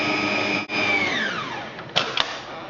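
Electric mixer whirs steadily as it whisks Christmas cake batter with eggs added, its pitch sliding downward mid-way, briefly interrupted, then a couple of knocks, close and loud, no talk.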